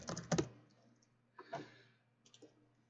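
Quiet clicking of computer keyboard keys in three short bursts of typing, separated by pauses, close and fairly soft.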